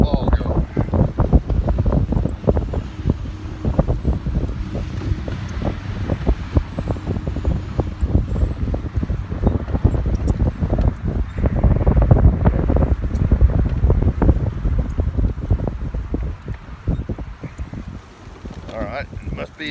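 Strong wind gusts and rumbles across the microphone on a golf course, roaring loud and uneven throughout without letting up.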